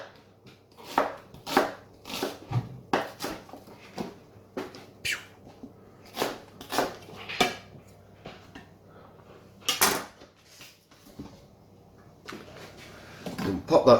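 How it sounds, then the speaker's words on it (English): A knife makes quick chops through onion halves on a board, in short bursts of crisp close knocks with brief pauses between them, and no one speaks. "nice quick chop of the onions"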